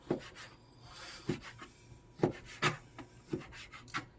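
A knife cuts mitre squid into thick slices on a cutting board, making quiet, irregular knocks and soft scrapes about every half second.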